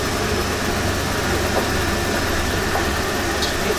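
A big box truck's engine runs steadily while driving, a constant low rumble and vibration close by with no talking.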